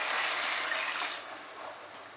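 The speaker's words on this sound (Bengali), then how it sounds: "আমি জল অ্যাড করছি" Water gushes into a pan of spiced bhindi posto, a steady close splash for about a second before tapering to a softer trickle.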